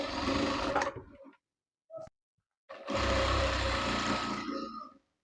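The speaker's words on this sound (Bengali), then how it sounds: "শুধুমাত্র এই মাথার দিকে একটি সেলাই দিয়ে নেব" Sewing machine stitching elastic onto a burqa, running in two loud, steady whirring bursts of about a second and two seconds, separated by a short pause and a brief quiet blip.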